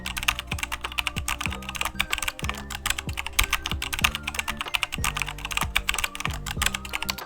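Fast, continuous typing on a computer keyboard, a dense stream of close, crisp key clicks with occasional heavier keystrokes, no voices.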